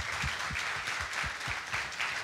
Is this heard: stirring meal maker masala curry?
no